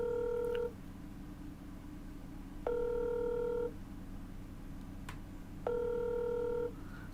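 Telephone call ringing unanswered: three evenly spaced electronic ring tones, each about a second long, over a faint steady background hum, with no voices.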